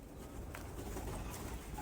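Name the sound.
pigeons cooing in a pigeon tower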